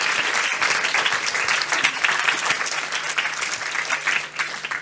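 An audience at a women's church gathering session claps steadily and loudly for about five seconds, a dense continuous round of applause with no speech over it.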